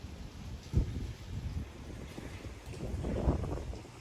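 Strong wind gusting outdoors at a vacation house with a view, rumbling and buffeting the microphone in uneven surges, loud and close, with no talking.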